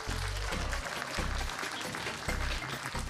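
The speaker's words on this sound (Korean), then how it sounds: "큰 박수로 환영해 주십시오." Crowd applause at a political party primary event in Korea, sustained clapping from many hands heard under a resonant, booming hall atmosphere with low thumps recurring.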